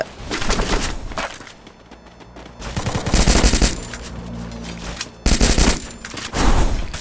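Rapid automatic gunfire in the Free Fire battle game, loud dense bursts of machine-gun shots with short pauses between volleys, close and continuous over the whole stretch.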